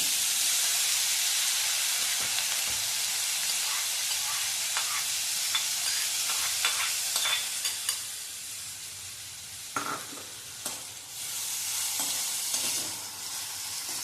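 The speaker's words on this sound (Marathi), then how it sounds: "कांदा छान गुलाबीसर होईपर्यंत परतून घ्यायचा. सतत हलवत परतायचे म्हणजे तो करपत नाही." Chopped onion sautéing in hot oil for a Marathi stuffed brinjal dish, a steady close sizzle and hiss with scattered scrapes of continuous stirring, no voices.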